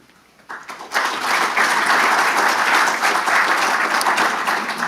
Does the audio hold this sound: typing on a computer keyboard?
no